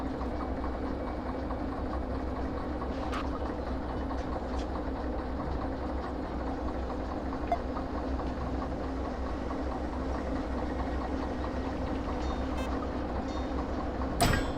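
A locomotive engine idles steadily in the railway game Derail Valley, a continuous low droning hum with faint mechanical clatter, moderately loud and unbroken throughout.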